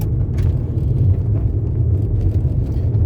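Steady low road rumble from a car riding on snow tires on the front, a continuous droning hum inside the cabin with no voices.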